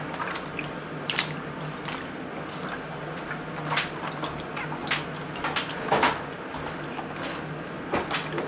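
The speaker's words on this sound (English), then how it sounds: "I'm gently manipulating the fibers to make sure that every strand of yarn is coated" Dye-soaked yarn is squished and worked by hand, giving a close series of wet, irregular squelches and soft drips at a low level, with no talk.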